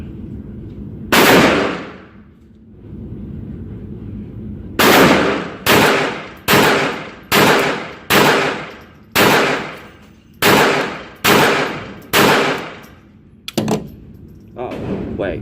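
.22 caliber gunshots at a shooting range ring out loud and close: one shot, a pause, then a run of about nine evenly spaced cracks with short decays, and a final sharp report.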